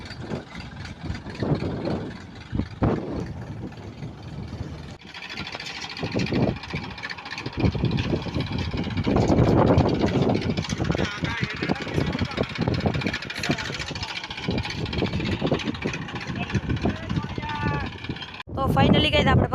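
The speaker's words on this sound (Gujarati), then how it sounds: "જો ટ્રેક્ટર આવે છે" A tractor engine drones steadily while sowing a field, a continuous low rumble running throughout under people talking.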